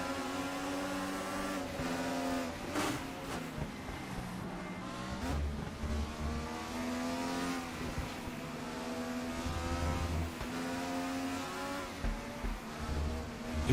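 1995 DTM touring cars race at Watkins Glen, a pack of engines buzzing and droning steadily at moderate distance, pitch shifting with gear changes, with occasional thumps as a car bounces over a curb.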